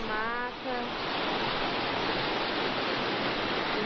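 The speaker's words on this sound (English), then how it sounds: "Look at how wonderful the waterfalls are." Steady roar of a waterfall in a nature scene, broadband rushing water holding constant and loud throughout, with a brief harmonic tone fading early on.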